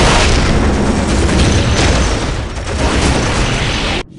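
Explosions and heavy gunfire from a Space Marine battle in Warhammer 40,000: Dawn of War Definitive Edition, a loud, dense continuous barrage of booms and bursts that cuts off abruptly near the end.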